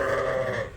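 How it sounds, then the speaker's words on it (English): Sheep bleating on a lambing farm, with two ewes in labor at the same time; a single sustained, loud, close bleat fills the short moment with no voices. "we've got 2 ewes going into labor and pushing out lambs at the same time"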